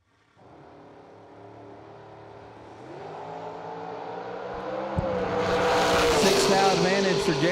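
Drag racing cars, one of them a Corvette Roadster, launching off the line with engines revving and climbing in pitch as they pull away, loud and sustained, building into a roaring, tire-noisy surge near the end.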